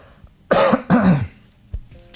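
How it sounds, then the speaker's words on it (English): Two short, harsh coughs close to the mic, a brief pause between them, followed by a faint small throat sound. "I'm just coughing just a slightly bit"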